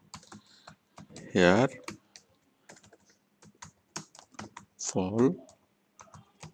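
Keyboard keys tapped in short irregular bursts on a computer while someone talks over the clicking, typing out a search keyword in Bengali.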